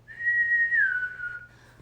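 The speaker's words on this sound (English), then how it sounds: "They built and built until the loud whistle blew." A single loud, sustained whistle sounds at a building site, a clear steady tone that bends slightly lower before fading, heard alone over a faint low hum.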